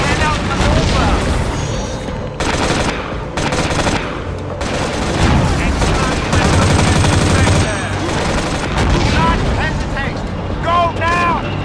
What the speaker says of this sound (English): All sectors covered by enemy fire